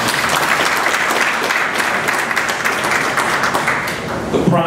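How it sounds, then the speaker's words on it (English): Applause fills a hall during a speech on Niagara Falls casino revenues, a loud, dense, continuous clapping from a sizable audience that holds steady before a voice resumes at the very end. "That's an applause."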